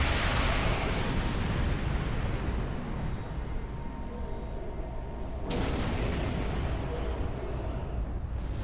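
In the Star Trek Online video game, torpedoes fire and detonate as a deep rumbling explosion that decays over several seconds. A second sharp burst and boom follows midway, all loud and with no talk.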